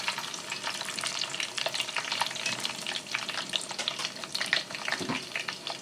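French fries sizzle in very hot oil with a dense, continuous crackle and popping that stays close and steady throughout, and no one speaks.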